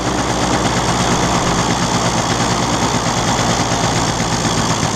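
A small two-stroke engine idles continuously with a rough, buzzing, rattling note, loud and close, steady throughout without speech.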